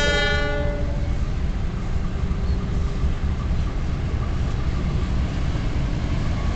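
KA Ciremai passenger train passing straight through a station without stopping, a loud, steady rumble of wheels and carriages close by, with a brief horn blast at the start.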